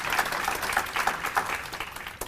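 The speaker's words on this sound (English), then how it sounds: "let's give her a round of applause" An audience at a bar association equality awards ceremony gives a round of applause, fairly faint and distant, with a few sharper individual claps standing out from the soft patter.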